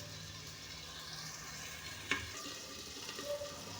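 Tomatoes frying in hot oil in a pan: a quiet, steady sizzle and stir with one brief sharp clink partway through.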